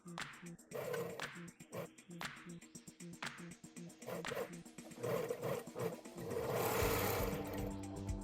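A sewing machine stitches elastic into the armhole of a lined sleeveless dress, its needle running in steady rapid bursts with brief pauses, close and fairly quiet, the motor rising into a longer continuous run near the end.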